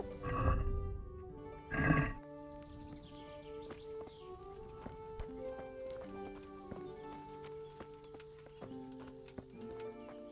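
Horse hooves clip-clopping in the medieval game Kingdom Come: Deliverance, a steady walking rhythm of hoof beats after a couple of loud snorts or whinnies, mid-distance with faint ambient sounds.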